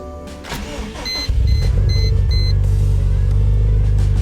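A big-turbo Subaru STI cranks with a brief starter whir and chime beeps, then catches into a loud, rumbling idle that holds steady close by.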